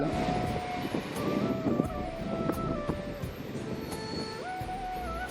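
Rumbling train in motion, recorded from the door, with rattling wheels and wind buffeting, a few tonal squeals rising over the steady noise; a local train running from Bongaon toward Ranaghat.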